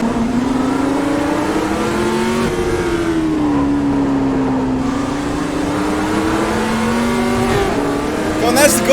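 A race car's engine drones loudly and continuously in a video game at the Imola circuit, its pitch rising and falling with shifts and throttle changes. A voice talks over it.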